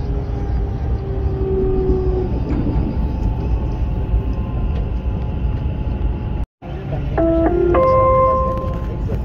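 A Dubai Metro train runs between stations in the city centre on the line toward Expo 2020, a steady loud rumble and rolling hum throughout with a brief cut, followed by an electronic chime tone sequence.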